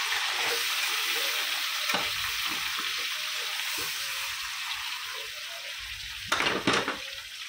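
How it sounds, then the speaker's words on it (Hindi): Chicken pieces for murgh musallam frying in half a cup of oil, a steady close sizzle throughout with occasional soft stirring knocks and a brief louder clatter of utensils near the end. "अभी इसको 10 मिनट एक तरफ से 10 मिनट एक तरफ से फ्राई करेंगे"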